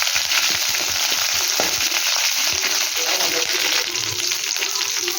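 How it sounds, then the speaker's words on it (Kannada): Green chillies crackle and sizzle as they hit hot oil already holding curry leaves, a dense, steady frying hiss with scattered pops and stirring clatter, close and continuous throughout. "ಈಗ ಹಸಿಮೆಣಸಿನ್ಕಾಯಿ ಹಾಕ್ಕೊತಾ ಇದ್ದೀನಿ."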